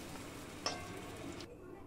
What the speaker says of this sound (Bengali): এরপর ওই তেলেই চিংড়ি মাছগুলো ভেজে নিতে হবে।